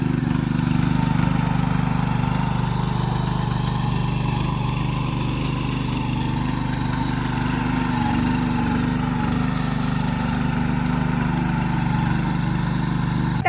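Farm tractor engine running steadily while ploughing a field, a loud continuous mid-low drone with no breaks and no talk over it.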